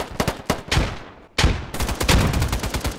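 Gunfire in a free first-person shooter game, sharp bursts of rapid automatic shots, a short pause, then louder continuous firing.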